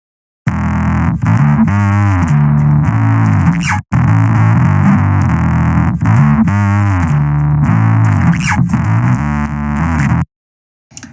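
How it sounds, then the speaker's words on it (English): A music track drenched in heavy distortion plays loud and fuzzy, with dense buzzing harmonics and a repeating phrase broken by brief dropouts before stopping abruptly. "Let's have a listen to distortion."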